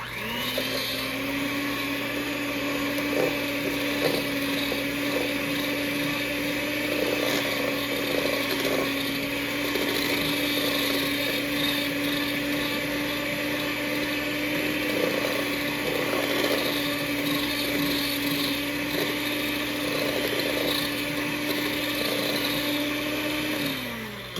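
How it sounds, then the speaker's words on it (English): An electric mixer running steadily in a bowl of cookie dough mixed with applesauce, giving a loud continuous motor whine with a churning rattle that holds for over twenty seconds, then winds down at the end. "Now I'm going to blend this really good together."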